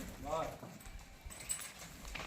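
Faint hooves of a mare clip-clop in the background while a person talks over them.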